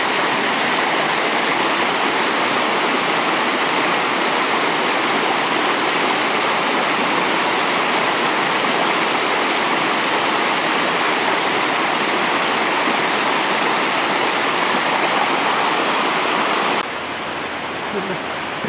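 Steady, loud rushing of river water where two mountain rivers merge near a hut. A continuous broadband roar lasts for most of the stretch, then drops suddenly near the end.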